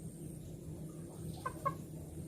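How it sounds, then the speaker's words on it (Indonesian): A chicken gives two short clucks close by in the middle of the moment, set against a low, steady background hum. "Tapi ada ayam yang baik, dia tidak mau masuk ke dalam rumah."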